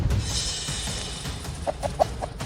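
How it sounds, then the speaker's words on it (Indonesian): A chicken clucks several times in short, quick bursts near the end, close by, following a stretch of rustling background noise. "Seekor ayam, itu ayam itu."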